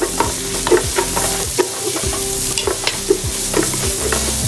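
Green chillies and curry leaves fry with onions in hot oil, a loud, close sizzle with frequent scraping stirs and spatula taps on the pan at an uneven rhythm, and no voices.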